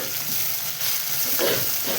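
Curry leaves crackling in hot oil along with fried cumin and mustard seeds for a dry pumpkin stir-fry, a steady close sizzle that flares louder near the end, with no talking.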